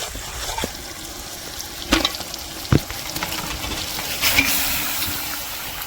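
Duck meat frying in tomato masala and being stirred in a pan, a soft steady sizzle under a few scraping stirs and clinks of a spoon against the pan, fairly quiet with no talking.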